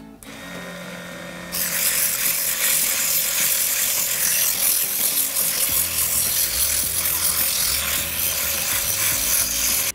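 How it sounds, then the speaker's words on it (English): Sandpaper rubs against a spinning wooden jump rope handle cylinder, starting abruptly after a quiet mechanical whir and then continuing as a loud, steady, gritty hiss to the end. "To clean the surface, we will use sandpaper."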